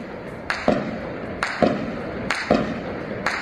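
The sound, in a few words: gunshots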